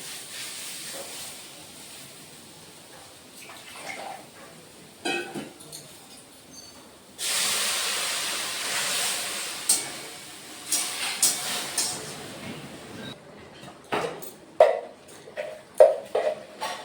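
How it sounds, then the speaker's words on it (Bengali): Fried papaya in a hot pan as a little water goes in, bursting into a loud sustained hiss and sizzle that gradually breaks into sputtering crackles. "ভেজে নিয়েছি, এখন একটু জল দিয়ে দেবো।"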